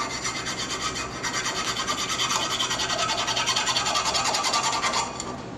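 A metal file rasps in steady back-and-forth strokes across a sharp, freshly milled edge on a custom ingot mold, close and continuous, with no talking.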